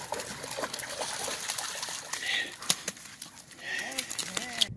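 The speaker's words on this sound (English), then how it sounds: "Oh, don't get me wet, dog." A dog splashes through river water, with close, uneven splashes and trickling water while people talk nearby.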